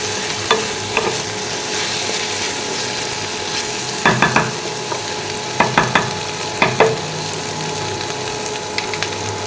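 Okra with green chili frying in a pan gives a steady sizzle, broken by occasional clusters of sharp scraping stirring strokes, close and clear with no talk.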